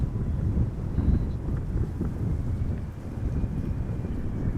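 Wind buffeting a microphone outdoors at Amsterdam Schiphol Airport in a 17-knot crosswind, a continuous low rumbling whoosh with gusty swells, steady and close throughout.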